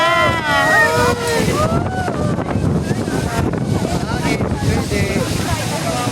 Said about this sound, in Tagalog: Ay, hangin. Parang uulan.